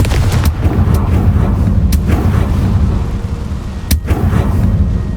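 A heavy booming blast from the Confringo spell in Hogwarts Legacy, loud and close, with sharp cracking impacts and rumbling over a dense, continuous roar of game effects.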